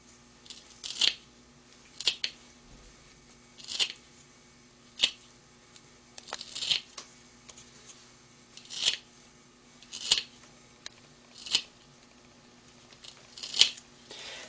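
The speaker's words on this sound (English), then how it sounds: "I'm going to cut it up into small sections so that it can fit into our grinding vial." Scissors cut a piece of leather into small sections, giving about a dozen sharp, close snips spaced roughly a second apart. The snips stand alone against a quiet background.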